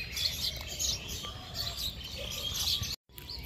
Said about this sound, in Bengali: আপনারা পাখির ডাক শুনতে পাচ্ছেন।